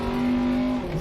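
A rally car engine in the video game Dirt 2.0 holds a steady, loud revving drone with a strong tonal whine for about a second, then its pitch dips slightly.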